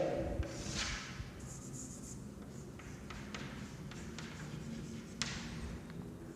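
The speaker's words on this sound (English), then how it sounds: "Then I am going to write here." Pen or marker writing on a board during a physics lesson sounds as faint, steady scratching strokes and light taps over a hissy room background, with no talk.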